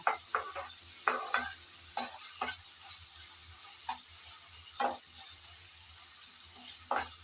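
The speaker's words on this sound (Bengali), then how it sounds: "আমি সামান্য একটু নেড়ে চেড়ে তেলের মধ্যে ভেজে নিচ্ছি" Dried shrimp fry in oil with a steady light sizzle, broken by a series of sharp spatula strokes scraping the pan at irregular intervals, close and clear with no talking.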